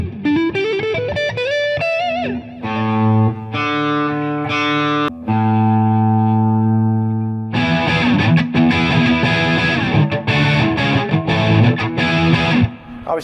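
Epiphone 335 Dave Grohl signature semi-hollow electric guitar played through its neck pickup with a distorted lead tone, loud and close, with held notes and chords giving way to a dense, driven strummed passage.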